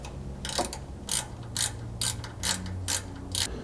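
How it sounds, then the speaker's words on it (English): A 1/4 inch drive ratchet works a Torx Plus 25 bolt off a Bronco rear lower control arm skid plate, giving about seven quick, close clicking bursts at a steady rhythm. "I have that here on a small 1/4 inch drive ratchet, and it pretty easily slides up in here and gets into the back one"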